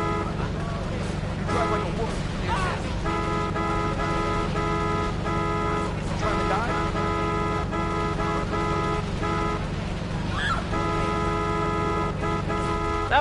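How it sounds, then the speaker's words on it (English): Car horns honk over and over in Grand Theft Auto 3, with steady blaring tones repeating over the game's traffic noise while a voice talks throughout. "stop honking!"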